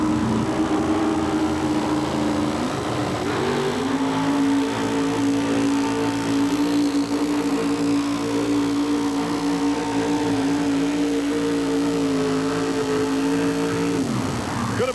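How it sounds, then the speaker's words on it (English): A 640 cubic inch 1960 Chevrolet four-wheel-drive tractor-pulling truck roars continuously at a pull event in Rock Springs, loud and steady with engine pitch shifting as the throttle changes, ending with a drop near the close. "640 cubic inches in this sharp-looking 1960 Chevrolet they call the 4-play"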